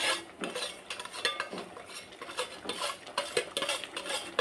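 Roasted semolina being stirred into boiling water for upma, a spoon scraping and clattering against the pot in a steady run of close, brisk strokes with no voices.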